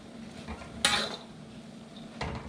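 Egg noodles for pancit being tossed and mixed in a pan, with a sharp clatter of utensil against metal near the start and another scrape later, over a low steady background hum.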